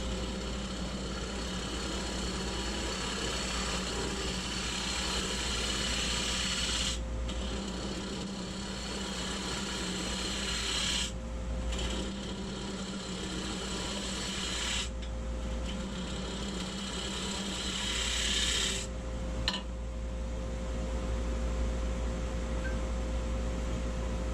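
Carbide tool with a round shaft cutting a segmented wooden bowl on a lathe, making a continuous scraping hiss over the steady hum of the lathe motor, with a few short pauses in the cut and no talking.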